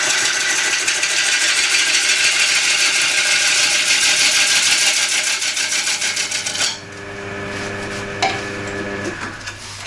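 A wood lathe roughs out a wooden platter under a bowl gouge, a loud, steady broadband whir and chatter that runs for most of the stretch, then drops to a softer hum with a few brief knocks near the end.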